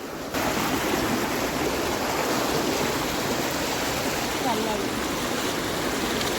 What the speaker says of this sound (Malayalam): അവിടെ നിന്ന് വെള്ളച്ചാട്ടം ഇങ്ങനെ ഒഴുകി വരുവാണ്.